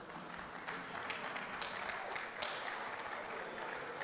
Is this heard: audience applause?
yes